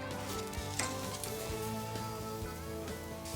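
Steak sears on a wood-fired Franklin PK grill, a constant close crackling sizzle with scattered pops and spits, no talk.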